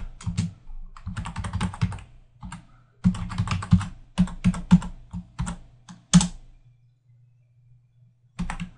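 Computer keyboard typing in bursts of quick clicks, near and fairly loud, with short pauses between runs and a quiet stretch before a final burst.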